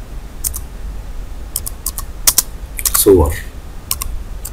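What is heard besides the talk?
typing an album name on a computer keyboard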